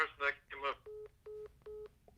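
A phone call drops after brief talk, followed by three evenly spaced steady telephone disconnect tones.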